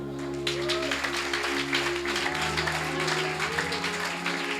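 Church congregation at a sermon clapping for the Lord over sustained keyboard or organ chords, a continuous wash of applause throughout.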